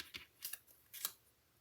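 Scissors handled at a craft table while making a stamped floral card, giving three quick, soft metallic snips and clicks spaced about half a second apart, close and fairly quiet with no talking.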